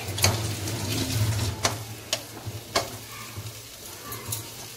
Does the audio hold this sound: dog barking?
no